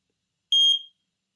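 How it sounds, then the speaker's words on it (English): One short, shrill electronic beep from an X-Sense wireless interconnected smoke detector while pairing, then silence. "They're both going to beep, blink."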